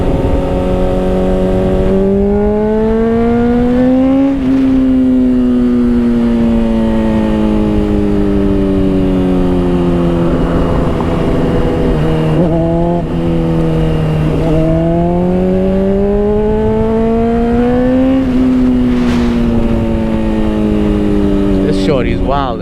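Motorcycle with a new chain and sprocket set accelerating hard through the gears on the road, engine note rising and dropping with each shift, loud and close, with brief talk over it.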